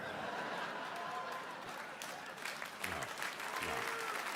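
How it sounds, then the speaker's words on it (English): A crowd claps in a steady patter of many hands, fairly faint and distant, with some chuckling and voices mixed in. "People are clapping about that."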